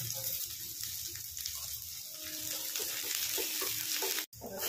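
Garlic and ginger fry in hot oil for an Odia fish curry, giving a steady close sizzle with stirring and a brief splash of water, and no speech over it.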